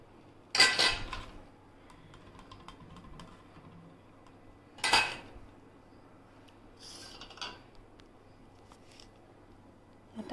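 Metal utensils clink and clatter as jaggery-milk kharwas batter is transferred into a pressure cooker vessel, with two sharp knocks and a lighter rattle spaced apart in a quiet kitchen.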